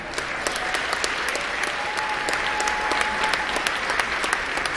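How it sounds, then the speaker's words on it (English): Audience applause at a stand-up comedy competition, steady and dense for nearly five seconds, with scattered sharp claps standing out above the broad wash of hands and a faint sustained tone in the background. "Give him a round of applause, everybody."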